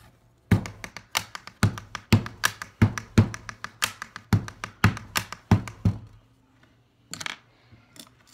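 Pen used as a drumstick, tapping out a quick repeated beat of sharp close taps and dull thunks, then a short pause and a final few hits, with no talk.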